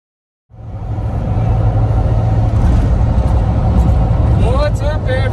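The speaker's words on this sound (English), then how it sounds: "We are currently driving towards downtown Houston." A car drives along a city road toward downtown Houston, its steady engine and road rumble loud and continuous from inside the vehicle, with a brief whine rising near the end.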